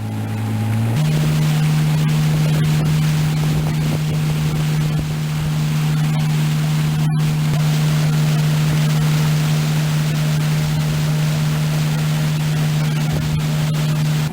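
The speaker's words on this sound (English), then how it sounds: "So we came back out in the evening in Dave's boat plus Bill in his boat." A motorboat engine on a lake drones steadily and loudly, a constant low hum with wind and water noise, shifting pitch slightly at the start.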